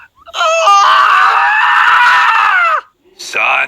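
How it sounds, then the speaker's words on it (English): A child lets out a long, loud, shrill scream lasting a couple of seconds, followed by a shorter second cry after a brief pause, close to the microphone. "Son, stop screaming."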